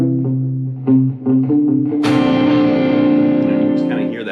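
Electric guitar played with a delay effect: a few short plucked notes, then a strummed chord that rings out and repeats as fading echoes, loud and close with no talking.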